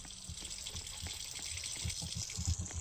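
In the game Evelyn, a faucet runs with a steady hiss of water, accompanied by soft, irregular low thumps throughout.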